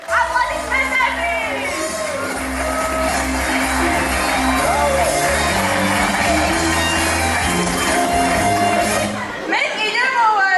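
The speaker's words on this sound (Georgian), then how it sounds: "აპლოდისმენტები!" A school last-bell ceremony crowd cheers and shouts over loud stage music, a dense sustained roar of voices and whoops that runs throughout before dropping off sharply near the end.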